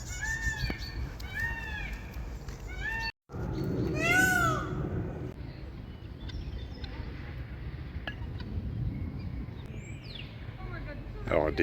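Several loud, wailing peacock calls repeat in quick succession, then fade into a noisy outdoor background with scattered later cries.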